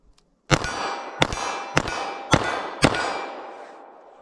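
Five sharp, loud .38 Special shots are fired with plated wadcutter rounds at auto glass. Each report arrives about half a second after the last and rings out in a metallic, ringing decay, with no talk.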